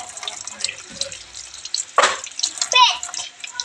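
Tap water runs into a sink in a home kitchen during halo-halo preparation, a steady splashing hiss under nearby chatter, with a voice and other people talking over it.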